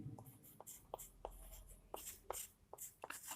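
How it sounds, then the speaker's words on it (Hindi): Chalk or marker strokes on a board during a physics lecture on ray optics: a quiet series of short, scratchy writing taps in an irregular rhythm, close by, with no talking. "तो हम लोग लिखेंगे"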